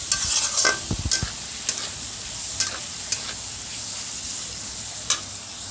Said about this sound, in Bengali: এগুলো ভালোভাবে নেড়ে চেড়ে ভেজে নেব